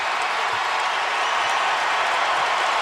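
Home crowd roaring at a Kentucky vs Tennessee college basketball game in the arena, a loud, continuous wash of cheering and clapping that holds steady throughout.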